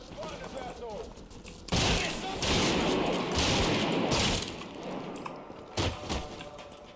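Heavy shotgun blasts in the first-person shooter Trepang2, several loud booming shots with crashing impacts in a cluster, while someone talks excitedly over the action.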